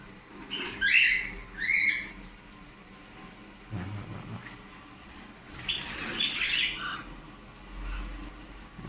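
Canaries and lovebirds in an aviary chirp and squawk in short bursts, with a few quieter gaps between calls and some low rumbling noise in the background.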